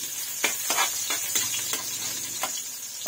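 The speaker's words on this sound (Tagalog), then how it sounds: "Igisa na po natin ang bawang" Garlic sautés in a pan with a steady close sizzle, punctuated by a handful of sharp stirring clicks from a utensil against the pan.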